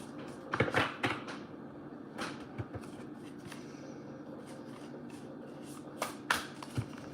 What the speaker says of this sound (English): Just going to shuffle.